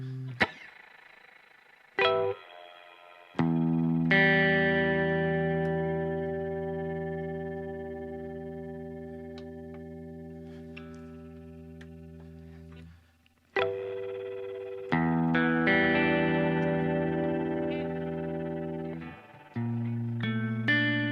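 Electric guitar through a BOSS GT-1000 Core modulation effect set high, with chords ringing out and sustaining with a shimmering, wavering tone, struck again several times across the passage, no talking.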